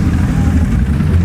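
Yamaha R1 and R6 superbikes ride past on a city street, their engines a loud, steady low rumble close by throughout the brief moment, with no talking.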